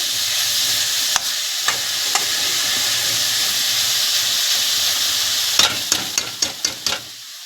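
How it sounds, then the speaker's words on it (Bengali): Onion frying in oil in a pan for a fish curry, a steady close sizzle with a few sharp clinks of a spoon against the pan, then a quick run of stirring scrapes near the end. "পেঁয়াজটা একটু ভেজে নেব বন্ধুরা পেঁয়াজটা একটু নরম হয়ে গেছে"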